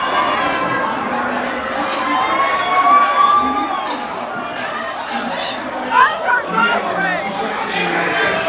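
A crowd shouts and screams during a brawl inside a Buffalo Wild Wings restaurant, a loud continuous mix of chatter and shrill yells with sharper outbursts rising and falling throughout.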